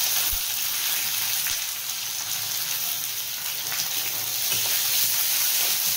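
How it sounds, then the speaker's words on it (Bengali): Chopped onion goes into hot oil with already-fried garlic for a mixed-dal curry, giving a steady, close, broadband sizzle and hiss that runs throughout with no talking. "পেঁয়াজটা দিয়েও ভালো করে ভেজে নেব"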